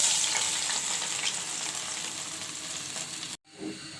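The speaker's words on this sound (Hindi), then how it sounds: "ये जो है ना दूध वाला मिक्सचर सूजी का ये हम घी में डाल देंगे" Milk and semolina mixture hitting hot ghee with cardamom for suji halwa, a loud continuous sizzle with stirring scrapes, then a sudden cutoff and a brief quieter sputter near the end.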